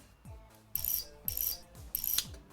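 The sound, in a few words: wrench unscrewing bolts on a car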